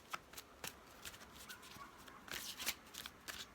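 Tarot cards shuffled by hand in a quiet room, a run of soft riffling flicks and slaps in uneven bursts, faint and close with no talking.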